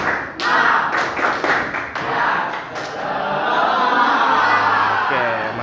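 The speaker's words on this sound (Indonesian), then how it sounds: "Tepuk semangat." Small group of adults clapping in a quick rhythmic pattern as a spirited classroom cheer, several bursts of taps over about five seconds with voices mixed in.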